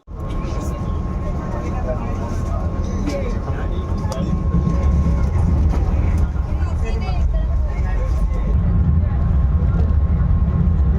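Inside a moving Vande Bharat Express train running from Secunderabad to Tirupati, a steady low rumble and rolling noise fill the carriage, with voices faintly in the background.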